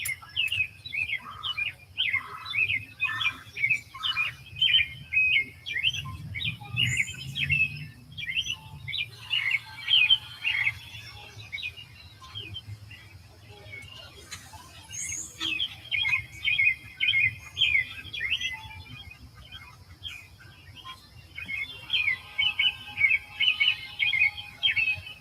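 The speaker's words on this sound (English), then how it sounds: "just listen to those birds" Small birds chirp and tweet outdoors in a yard, repeated bursts of bright calls coming in clusters with short pauses, fairly close, over a low background hum.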